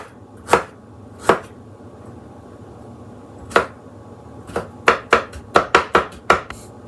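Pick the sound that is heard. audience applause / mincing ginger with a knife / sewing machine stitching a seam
mincing ginger with a knife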